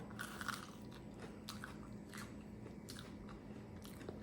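Quiet, close crunching bites into a crispy caramelized bread and banana sandwich soaked with milk, with several separate crisp bites followed by soft chewing and no talking.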